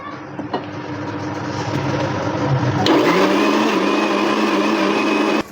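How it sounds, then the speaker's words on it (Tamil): A mixer grinder blends chikoo fruit with milk in its jar, a loud steady whirring hum that surges to a harsher, fuller roar partway through and runs continuously without talk. "அதே பால் கொஞ்சம் நம்ம ஜாரில் ஊற்றி அரைச்சிடலாம்"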